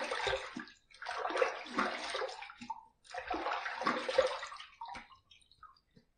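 Water runs from a tap while rinsing after a wet shave, two bursts of splashing and gushing flow separated by a short pause, then fading dribbles and drips, close and clear with no talk.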